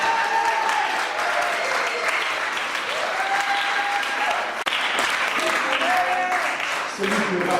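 A church congregation in Paris claps loudly and continuously to acclaim the Lord during a seminar service, a dense sustained applause with voices and cries rising within it.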